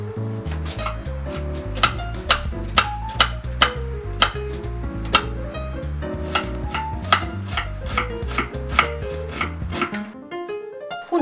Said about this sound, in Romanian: Încep cu o ceapă roșie, care va trebui tăiată mărunt.